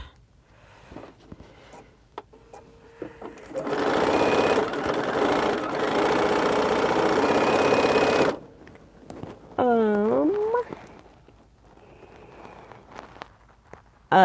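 A sewing machine stitches a quilt block in one steady, loud run lasting about five seconds, with quiet handling noises before it and a brief voice speaking afterward.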